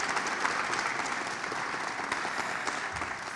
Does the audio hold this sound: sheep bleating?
no